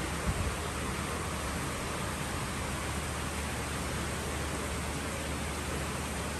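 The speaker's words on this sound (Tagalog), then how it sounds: "Lunes na maulan." Heavy rain pours down outdoors on a stormy typhoon day with flooding around, producing a dense, even hiss that stays constant and fairly close, with no voices over it.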